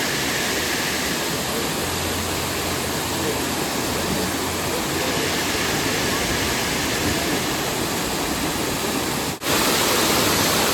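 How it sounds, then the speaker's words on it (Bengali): A November waterfall at Wards Lake in Shillong, Meghalaya, roars close by as a loud, steady rush of water that stays even and unbroken throughout. "এই দেখো আমরা এখন ঝর্ণার কত কাছে চলে এসেছি। জলের কি আওয়াজ বুঝতে পারছো?"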